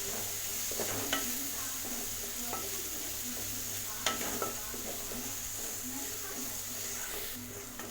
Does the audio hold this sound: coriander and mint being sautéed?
yes